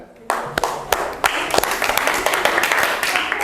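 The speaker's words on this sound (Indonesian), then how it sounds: "Tepuk tangan untuk kelompok 3 ya" Students in a classroom clap for a presenting group, starting with a few sharp separate claps that quickly swell into brisk, fairly close applause lasting a few seconds, with some voices mixed in.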